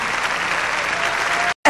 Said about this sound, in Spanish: Con estos aplausos a nuestra Rosa Forné y a todos los artistas que compartieron con ella el escenario del Teatro Carlos Mar